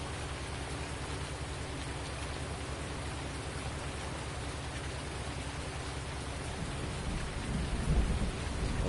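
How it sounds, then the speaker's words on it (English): Steady rain in a video game pours down with a dense hiss, and low thunder rumbles beneath it, swelling slightly toward the end. "Come on, rain, go away."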